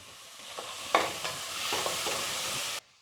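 Tomatoes, onion and ginger-garlic paste sauté in hot oil with a steady sizzle, broken by a few spoon scrapes and stirs against the pan; the sound cuts off abruptly near the end.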